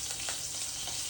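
Sliced onions frying in hot oil with cinnamon and cloves, a steady bright sizzle with faint soft stirring touches, close and continuous, no voices.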